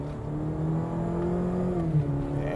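A Cadillac CT5's four-cylinder engine revs with a steady, close drone that swells slightly and then dips, a droning, uneven note with no talking over it.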